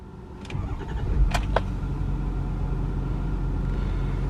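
A Ford F350 Super Duty with a 6.4L Powerstroke diesel cranks briefly and fires up, then settles into a deep, steady rumbling idle close by, with a few light clicks during the start.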